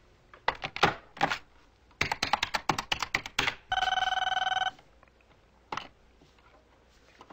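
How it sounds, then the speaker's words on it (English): A telephone rings in a home during a guidance program, a steady electronic ring burst amid nearby clatter and clicking. "I bet Mike can think of a better way to handle this call without lying"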